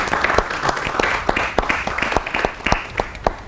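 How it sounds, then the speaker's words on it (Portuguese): Audience applause for a speaker at a conference on Mozambique in global trade, close and fairly loud, with distinct individual claps standing out in an irregular rhythm over a softer bed of many hands. "Uma salva de palmas ao Dr."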